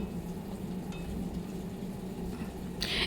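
Mutton pieces sizzle in a hot wok (kadai) without marinade, a dense continuous frying hiss at moderate level with a brief brighter spatter near the end and no voices.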